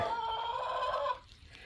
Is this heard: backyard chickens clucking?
yes